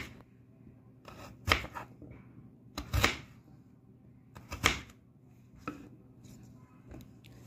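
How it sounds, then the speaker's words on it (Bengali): A kitchen knife cuts potatoes into decorative cubes, giving sparse, crisp chops that land about every second and a half, close and fairly quiet over a faint low background hum, with no voices. "তো এই যে এইভাবে করে কেটে নিচ্ছি আমি আলুগুলো।"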